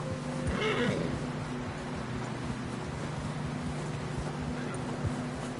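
A horse whinnies briefly near the start in the video game Red Dead Redemption 2, a high wavering call over a steady low hum and background noise.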